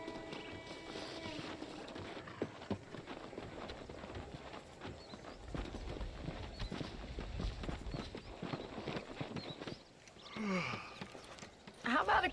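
Horse hooves clip-clop at a steady riding pace in the Red Dead Redemption video game, under a constant wash of game ambience, with a brief lull near the end.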